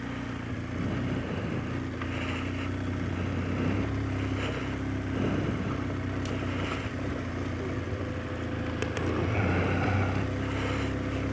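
Steady drone of a big motorcycle riding slowly through narrow muddy ruts at camp, engine note rising and falling slightly as it labours, heard continuously with no talk.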